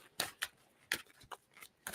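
Tarot cards are shuffled close by in a handful of quick, crisp riffling bursts with short pauses between them, quiet and with no talk.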